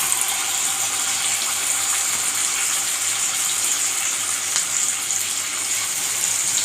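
Pieces of fish shallow-frying in oil for a crispy fish fry, giving a steady, loud broadband sizzle and hiss with no break and no voices.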